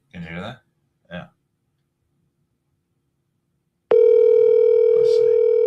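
Speech comes in two short bursts, then after a silent gap a phone's call tone starts over speakerphone and holds as a loud, steady electronic tone, with a brief voice over it near the end.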